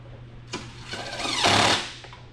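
A small air-cooled engine with a repaired starter and a slightly leaking carburetor is pull-started and briefly runs, a sharp crank followed by a rising, buzzing roar that swells, then fades away.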